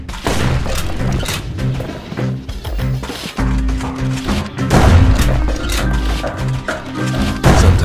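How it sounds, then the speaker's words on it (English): Carbine shots ring out in the video game Bastion, a Ceylanian army carbine firing repeated loud booming blasts over dense game music, close and punchy with no talk. "Nothing beats the feel of shooting a Ceylanian army carbine."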